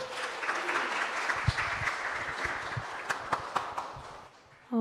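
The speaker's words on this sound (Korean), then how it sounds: "큰 박수 보내주세요." Steady crowd applause fills the room at a school admissions information session, many hands clapping together with a few louder claps standing out, fading slightly at the end.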